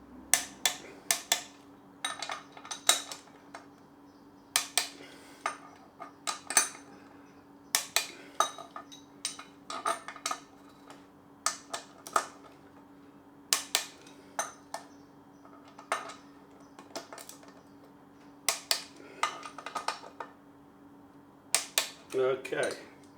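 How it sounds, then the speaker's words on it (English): Sharp metallic clicks from a tension wrench tightening bolts on a Honda CX650E rear suspension, sounding as scattered single clicks and short clusters across the stretch over a steady low hum, with a voice speaking at times. "Okay, I've set the tension wrench to 29 Newton meters."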